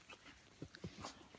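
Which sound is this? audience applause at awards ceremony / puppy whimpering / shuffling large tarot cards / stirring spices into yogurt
puppy whimpering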